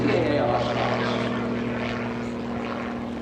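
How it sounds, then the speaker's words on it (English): A Wright Flyer replica taxis past at EAA AirVenture Oshkosh, its propeller engine giving a steady droning hum that fades slightly as it passes, with faint voices in the background. "Absolutely amazing to see that Wright Flyer just taxi on by."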